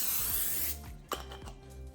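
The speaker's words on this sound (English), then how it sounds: "I'm going to spray my tray" Cooking spray hisses onto a baking tray in a steady burst for about the first three quarters of a second, then cuts off and leaves quiet kitchen clatter with a single brief knock.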